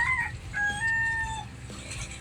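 A rooster crows nearby, a loud drawn-out call over a steady outdoor background hum.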